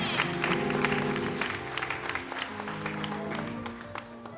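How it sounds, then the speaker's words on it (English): Church congregation at an anniversary service applauding honorees, sustained crowd clapping that gradually thins, with faint voices underneath. "Another big applause for our honorees."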